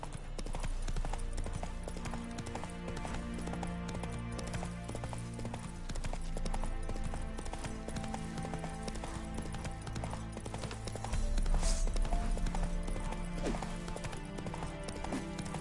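Roach, the horse in The Witcher game, trots with a steady rhythmic clip-clop of hooves that carries on throughout, underneath a constant bed of game ambience that swells slightly near the end.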